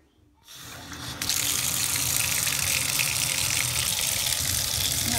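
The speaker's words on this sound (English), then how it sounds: "Let's turn the water on." A bath tap is opened, first a low trickle and then a full, loud gush of water running steadily into the tub, close by.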